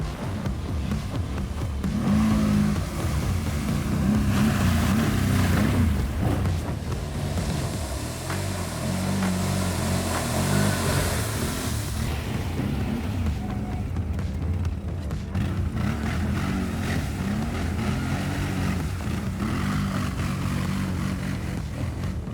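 Loncin Xwolf 1000 ATV with its one-liter engine churning through off-road mud, a continuous loud engine roar that swells and dips slightly as it drives, with no speech.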